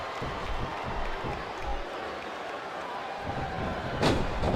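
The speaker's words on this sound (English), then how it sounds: "Listen to the crowd, JR." Arena crowd noise from the WWE SmackDown vs Raw 2007 wrestling video game, a steady roar of cheering spectators with a brief louder burst near the end.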